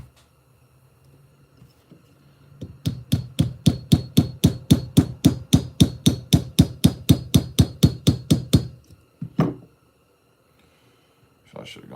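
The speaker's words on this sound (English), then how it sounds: "Where's my little ball peen hammer?" A small ball peen hammer strikes a workpiece during knife making, about twenty-five steady, evenly spaced blows in a quick rhythm, close and loud, followed by a couple of isolated knocks.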